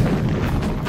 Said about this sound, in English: Compton pulled the pin on a Mark II fragmentation grenade.